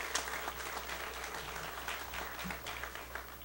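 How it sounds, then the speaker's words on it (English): An audience at a Nalco Garyville facility expansion event breaks into a round of applause, steady clapping from many hands heard at a moderate distance for the whole stretch. "Let's give another round of applause for creating 200 jobs for our parish and for our state."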